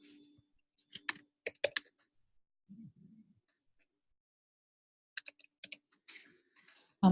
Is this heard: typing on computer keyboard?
yes